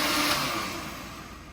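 A blender whirs on low speed mixing flan batter, a steady motor hum with liquid churning that fades slightly as it winds down over about a second and a half.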